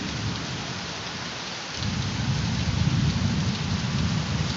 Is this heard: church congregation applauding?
no